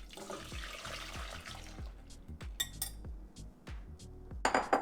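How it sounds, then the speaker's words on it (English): A whisk working through lemon tart mixture in a pot over medium-low heat, heard as a steady rhythmic scraping and clinking of metal on metal, with a few louder clatters near the end. "Turn it back on medium-low and continue to whisk."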